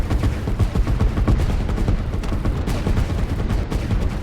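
Dense, continuous gunfire and rocket launches from units battling in a real-time strategy game with artillery and SAM units, a steady barrage of overlapping shots with no pauses.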